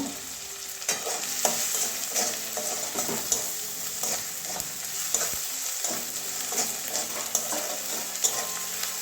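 Chili spices fry in hot oil in a pan for a potato and papad curry, a steady close sizzle broken by repeated scraping and clanking as a spoon stirs the mixture, no voices.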